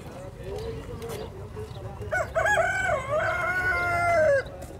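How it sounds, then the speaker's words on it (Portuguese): A rooster crows loudly and long over a murmur of voices and farmyard background noise at a poultry and egg market in Cachoeirinha, Pernambuco, Brazil. "E o galo cantou."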